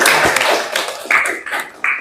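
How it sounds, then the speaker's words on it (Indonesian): Small classroom group clapping after a presentation, a short burst of close hand claps that thins into scattered individual claps. "Tepuk tangan dong"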